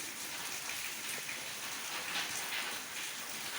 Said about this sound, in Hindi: अनचाहा बारिश हो रहा है